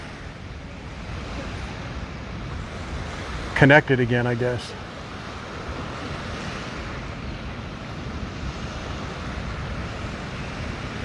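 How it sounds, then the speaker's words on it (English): Ocean waves wash onto Lanikai Beach, Oahu, a continuous close roar of surf mixed with wind rumble on the microphone, with a brief spoken remark partway through. "once you come back to the ocean again, you're just standing this close to these waves"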